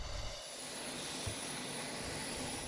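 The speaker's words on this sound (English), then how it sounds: "This plane touched down at San Diego International Airport" An airliner landing at San Diego International Airport, with a steady, broad engine roar and rushing whine holding at moderate distance throughout, no talk over it.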